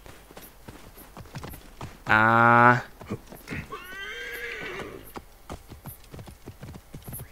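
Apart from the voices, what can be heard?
summoned horse neighing and trotting in the video game Assassin's Creed Origins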